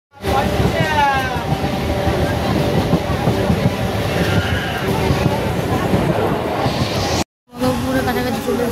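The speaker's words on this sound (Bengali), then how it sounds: "আমাদের ট্রেন এসে গেছে" A train rumbles steadily into a railway station on a rainy day, a continuous heavy clatter with voices talking over it.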